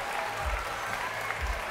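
Applause from spectators after a proposal at the 2015 US Open table tennis men's singles final, a fairly soft, brief burst of crowd clapping heard at moderate distance.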